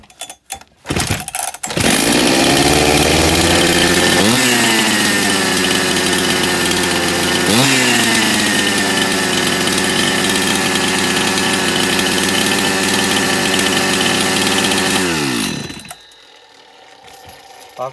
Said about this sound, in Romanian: Deci auziți ce forță are această drujbă de aproape 30 de ani.